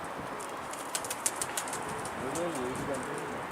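Pigeons in a loft cooing and beating their wings, with several sharp flaps midway and a low warbling coo toward the end, heard up close in an enclosed space.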